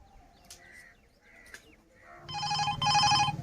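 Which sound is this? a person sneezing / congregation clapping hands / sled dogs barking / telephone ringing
telephone ringing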